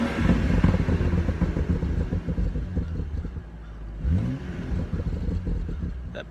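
Exhaust burble from a BMW M235i, a close, uneven crackling and popping rumble that swells and fades, with a short rising rev near the end.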